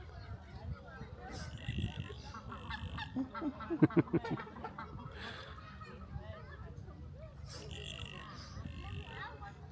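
Loud honking calls from trumpeter swans ring out repeatedly over a busy background of voices and chatter at Martin Mere.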